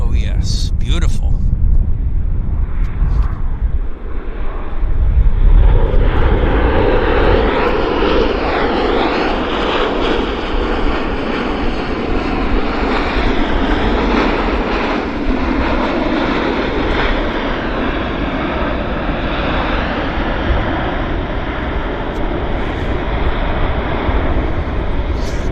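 A Continental Airlines jet at Vancouver airport roars loudly and continuously, its engine noise building and sustaining with a broad rushing tone. People talk over it.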